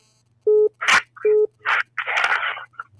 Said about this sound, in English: I'm going to call him in the phone.